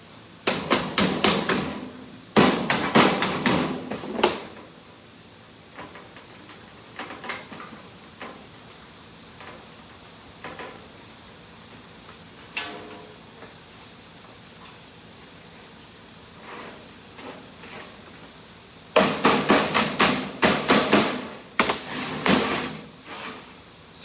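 Hammering over the sheet metal tabs of a plenum collar flange: bursts of rapid, loud metallic blows at the start and end, with scattered lighter single taps and handling noises between.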